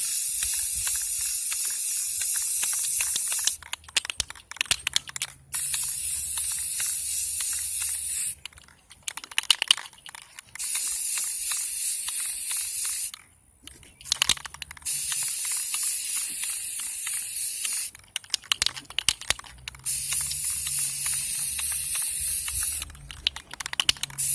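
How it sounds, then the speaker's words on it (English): A spray paint can hisses in sweeping bursts as coats go onto a spinning cup, several loud sprays separated by short pauses with faint handling clicks in between. "I usually spray it a few times to make sure there's no clogs or anything in it."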